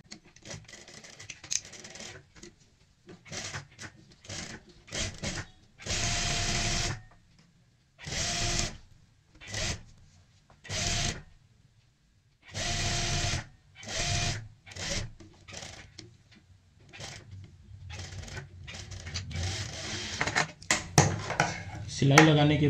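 Sewing machine stitching kurti collar fabric along buckram in repeated bursts of steady, whirring stitching separated by short pauses, close and loud, with the runs growing longer and busier toward the end.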